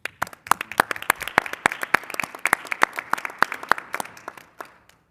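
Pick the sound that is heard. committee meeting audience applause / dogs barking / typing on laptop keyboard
committee meeting audience applause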